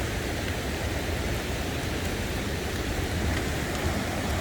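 Rain pours during a ride on a Yamaha Aerox scooter toward the Muak Lek reservoir in Saraburi, a constant, dense hiss of water that stays loud and unbroken throughout, with no voices.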